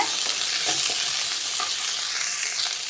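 Okra (lady's finger) sautéed in oil in a pan for sambar and stirred so it does not stick. A loud, dense sizzle continues throughout, broken by faint spatula strokes, with no talk.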